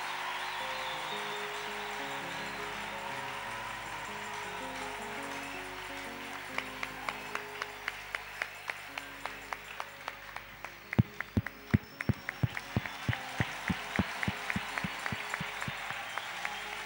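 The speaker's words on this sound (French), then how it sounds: "Applaudissez fort." A church congregation claps and applauds loudly, a dense crowd wash that turns into strong rhythmic unison clapping partway through, punchy regular beats continuing to the end.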